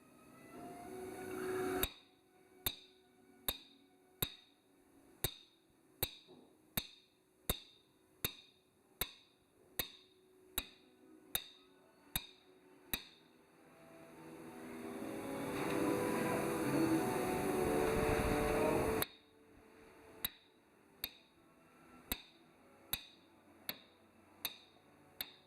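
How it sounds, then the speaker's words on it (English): A mallet strikes a caulking iron in a steady, evenly spaced series of sharp knocks, driving caulking into a seam of a historic wooden ship in a shipyard. The knocks pause briefly beneath a rising wash of noise, then resume. "with the mallet, and just take little tucks each time and pound it into the seam."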